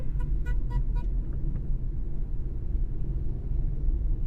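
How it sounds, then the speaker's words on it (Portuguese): A car horn sounds about four quick, loud toots in city traffic, followed by a steady engine and road rumble from inside the car. "Vou buzinar pra eles agora aqui, ó."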